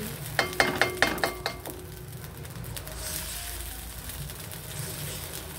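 Ingredients sizzle and crackle in a hot pan while being sautéed for pork igado, with a few sharp clanks of a utensil at the start before a steady frying hiss continues.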